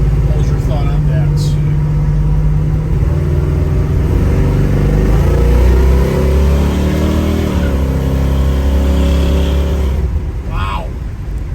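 A 1972 Chevrolet Nova with a 427 engine accelerates at quarter throttle, its loud, close exhaust rising steadily in pitch for about ten seconds before easing off.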